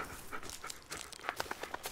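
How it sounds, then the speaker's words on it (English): A dog in the Blair Witch horror video game pants softly in quick, rhythmic breaths, faint and close, with light shuffling steps mixed in and no voices. "Let's pet the doggo. Good boy."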